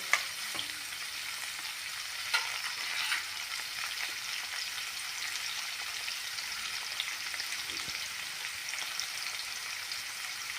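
Sliced bitter gourd and okra fry in hot mustard oil, giving a steady, even sizzle throughout with occasional soft clicks and scrapes as the pan is stirred; no one talks.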